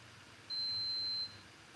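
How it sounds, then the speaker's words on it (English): A single thin, high electronic beep holds for under a second against a faint, quiet room background. "Your backpack's beeping."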